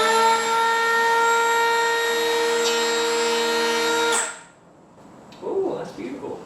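A new hand plane is pushed along a wooden board for wainscoting, giving a steady, close shaving rasp for about four seconds before it stops abruptly, followed by quieter handling noises.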